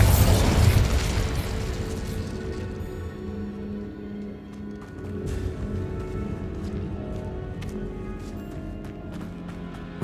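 A Bombarda spell explodes in Hogwarts Legacy with a loud booming blast up front, followed by a fading rumble and lighter game sounds and faint tones for several seconds.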